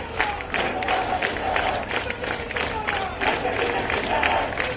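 Masked nurses striking at AIIMS Delhi clap and chant as a dense, steady crowd, with repeated bursts of shouted slogans over a continuous wash of voices.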